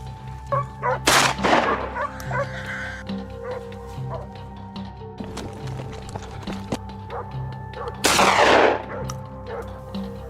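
Two sharp gunshot bursts ring out during a wild hog hunt outdoors, spaced several seconds apart, with dogs barking and scattered rustling and hoof-like movement between the shots.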